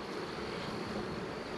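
Honey bees from a modest brood colony buzzing steadily around hive frames, a dense continuous hum close by with no talk.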